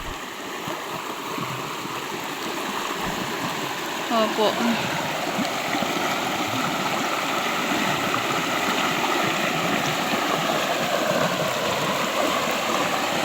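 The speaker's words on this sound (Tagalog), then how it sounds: "Oho po, kaganda po ng sapa. Dire-diretso po ang tubig." Creek water flows steadily in a broadband rush, close and continuous, with a brief spoken word near the middle.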